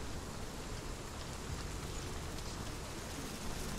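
Steady rain falling in the game Hellblade: Senua's Sacrifice, a constant even hiss of drops with no breaks, moderately loud and unaccompanied by talk.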